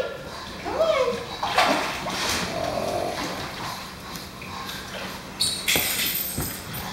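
A pug dog swims and splashes in water, with irregular sloshing bursts close by, under a man's encouraging speech.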